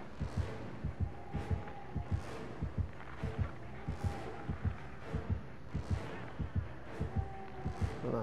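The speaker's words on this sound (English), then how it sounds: "I hear a heartbeat though." The Dead by Daylight terror-radius heartbeat thumps in steady double beats, deep and regular, repeating across the stretch at a moderate pace over faint game ambience.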